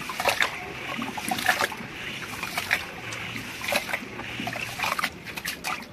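Pigeon feed grains being rubbed and washed by hand in water, giving a steady wet swishing and gritty rustling with small splashes throughout, close and moderately loud, with no talking.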